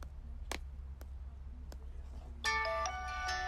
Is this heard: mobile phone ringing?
yes